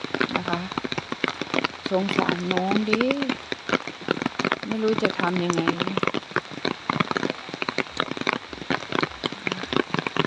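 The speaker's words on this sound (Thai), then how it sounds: "แต่ฝนตกตั้งแต่เมื่อคืน นะคะ จนบัดนนี้ยังไม่หยุดเลย" Heavy storm rain pours steadily across a surface, a dense, constant patter that continues without break while someone speaks over it.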